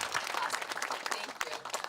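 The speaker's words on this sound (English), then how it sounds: "Can you just sort of clap that out?" Audience clapping at a Mercy Housing veterans housing event in Colma, California, a brief scattered round of claps, fairly faint with a bit of crowd murmur underneath.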